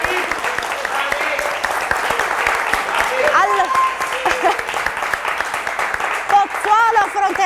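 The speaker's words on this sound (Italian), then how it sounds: "Quindi un applauso a tutti." Audience applause at an event, steady clapping from a crowd lasting several seconds, with a voice speaking over it throughout.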